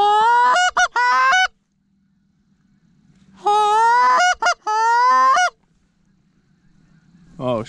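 A flock of geese honks loudly and close in two bursts of overlapping calls separated by a quiet pause, with a low engine-like hum underneath.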